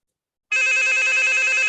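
A telephone rings during an online municipal heritage committee meeting, its bright electronic tone starting abruptly after a moment of silence and holding steady and loud to the end.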